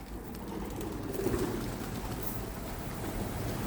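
Pigeons being fed outdoors coo softly and repeatedly, faint and somewhat distant, over a low steady background hiss of wind.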